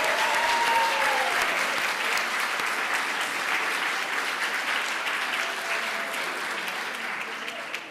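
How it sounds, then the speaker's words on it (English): A crowd at the Rising Stars awards ceremony applauds the evening's winners: steady, dense clapping that holds strong for the full stretch and tapers slightly near the end, with a brief whistle early on. "let's have one more round of applause for all the great work they do in shaping our future"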